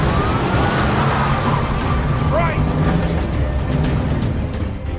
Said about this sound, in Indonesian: Sirine polisi yang terdengar semakin dekat